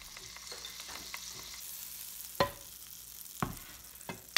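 Canola oil and butter sizzling in a frying pan, a quiet steady hiss broken by a few sharp clinks of a utensil against the pan, with no talk.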